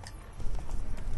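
Roach, the horse in Witcher 3, gallops along, with quick rhythmic clip-clop hoofbeats rising in loudness over a low rumble of game sound.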